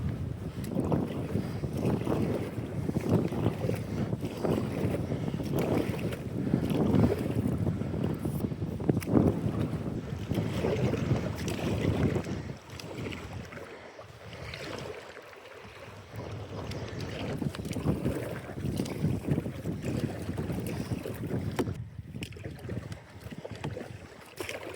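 Strong wind buffets the microphone on a Northern Ontario lake, a steady rushing roar with gusts and water slapping against a small boat, loud throughout with brief lulls and no talk.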